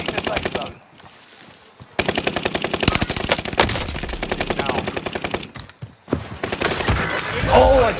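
Rapid automatic gunfire in a Call of Duty battle royale match rattles in dense bursts with short pauses, and players talk over and between the shots.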